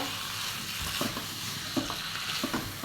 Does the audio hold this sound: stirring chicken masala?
yes